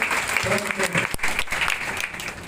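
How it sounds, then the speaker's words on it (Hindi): A crowd of BJP party workers at a political gathering in Biaora applauds loudly and steadily, a dense continuous wash of clapping that fills the whole stretch with slight swells. "एक बार के सम्मान में जोरदार तालियां बजाकर"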